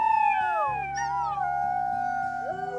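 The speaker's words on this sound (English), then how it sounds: "Gonna do a victory howl since I'm home." A wolf in the game WolfQuest gives a long victory howl with sliding, wavering pitch over a low droning game soundtrack, with no talking.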